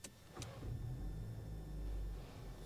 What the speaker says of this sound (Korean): 네, 이제 제타 주행을 해보겠습니다